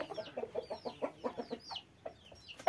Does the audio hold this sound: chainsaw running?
no